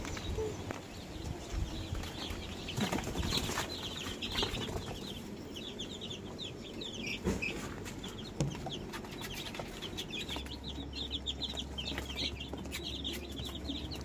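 A flock of around sixty young chicks cheeping and clucking continuously nearby while being given vitamins, with occasional wing flaps and rustling throughout.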